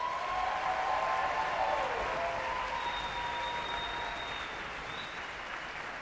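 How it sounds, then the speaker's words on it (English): An audience claps at a high school music festival, a sustained round of applause that is strongest at the start and slowly thins out, with some faint tones in the hall behind it. "Can I get another round of applause?"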